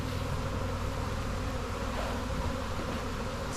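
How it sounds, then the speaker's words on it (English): Honeybees buzzing at an open beehive on a sunny summer day in an Alaska garden, a dense, steady swarm drone close by with no break, no talk over it. "Lots of bees."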